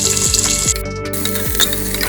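Onion, mustard seeds, cumin and curry leaves sizzle steadily in hot oil, with a few sharp crackles and pops over the continuous frying hiss, close by and without speech.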